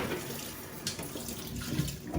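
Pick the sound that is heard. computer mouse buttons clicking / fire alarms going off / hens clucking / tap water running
tap water running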